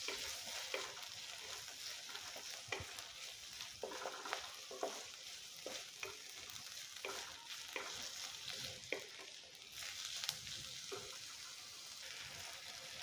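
Onion, tomato and green chillies sizzle quietly in a pan for dal khichdi, with a soft steady crackle and occasional scraping stirs.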